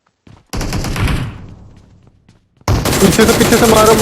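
Loud gunfire in the mobile battle game PUBG Mobile: a long burst that fades away, a short pause, then a fresh sustained volley close by. A voice talks over the shooting.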